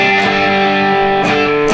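Electric guitar played through a Boss Katana MkII amp with light reverb, sustained chords ringing loud and clean with a couple of fresh strums near the end.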